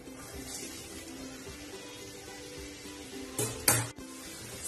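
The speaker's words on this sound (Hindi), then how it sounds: "शिमला मिर्च को हमें सॉफ्ट होने तक फ्राई करना है" Chopped capsicum frying in oil in a pan, a low continuous sizzle with a brief louder clatter of stirring utensils near the end.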